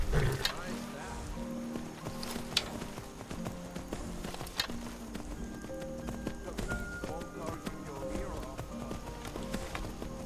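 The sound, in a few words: horse hooves walking in video game Skyrim VR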